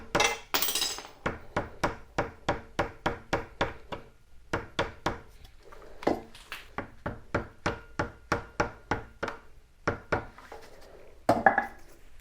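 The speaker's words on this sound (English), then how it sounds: "I'm going to use the end of a small screwdriver, the plastic end, just to fit in the axle hole as I tap that out" The plastic end of a small screwdriver taps repeatedly on a motorcycle wheel axle, driving it out of the hub: a long run of sharp, evenly spaced clinking knocks, close and clear, with a few brief pauses and a scrape between taps.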